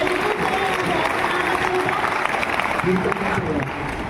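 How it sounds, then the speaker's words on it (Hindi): Audience clapping at a school quiz competition in a hall, a steady wash of applause from a crowd that carries through the whole stretch, with voices mixed in beneath. "जोरदार ताली।"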